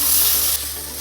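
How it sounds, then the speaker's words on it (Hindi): Sabudana khichdi stirred in a pan: a steady close sizzle and frying hiss with soft scraping, loud and continuous for about a second, easing slightly halfway, with no voices. "और अब करेंगे साबूदाने को अच्छे से मिक्स"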